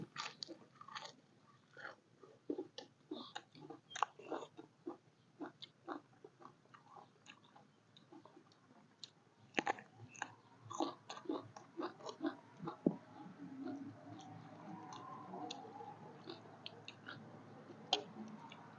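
Close, crisp chewing and crunching of fresh raw vegetables and jellyfish with seafood dipping sauce, irregular bites and crackles continuing steadily and growing denser toward the end.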